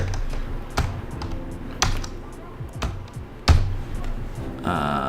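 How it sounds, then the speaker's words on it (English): A computer keyboard gives sparse, irregular taps and clicks over a few seconds, with short gaps between keystrokes and a faint rustle near the end. "I'm gonna type that in up here."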